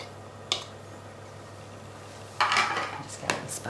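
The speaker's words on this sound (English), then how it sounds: "I'm going to get a little spatula now and spread it out" A spatula scraping and spreading a sticky raspberry granola bar mixture in a pan, a sharp tap followed by a longer close scrape and another clink.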